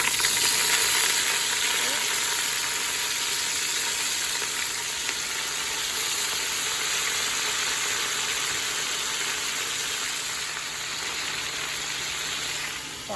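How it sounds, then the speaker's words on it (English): Cabbage and other food fry in hot bacon grease in a pan, giving a loud, steady, close sizzle with crackling that stays even throughout and no talking. "I'm not gonna dump it because I don't want the bacon grease to splatter"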